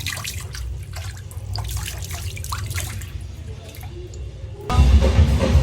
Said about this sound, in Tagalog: Pati pag maghugas ka ng kamay, ang dali lang gamitin ng dispenser, ng gripo.